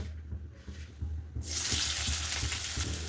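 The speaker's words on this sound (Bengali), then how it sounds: "তেল আমার গরম হয়ে গেছে, এরপরে আমি পেঁয়াজগুলো এর মধ্যে দিয়ে দেব।" Onions hit hot oil in a pan with a sudden loud sizzle that swells into a steady, bright frying hiss after a quieter lead-in.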